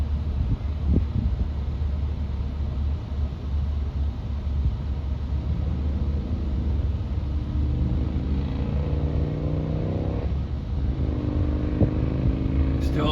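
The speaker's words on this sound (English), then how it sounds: "We're at a stop, just idling." A car engine idles at a stop with a low, steady rumble, close by, as a voice speaks intermittently over it.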